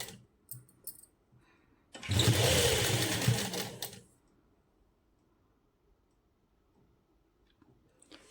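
Sewing machine stitching lace onto the hem of a printed suit, one loud rapid whirring burst of about two seconds in an otherwise quiet room, with a few light clicks around it.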